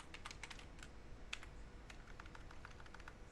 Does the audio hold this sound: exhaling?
no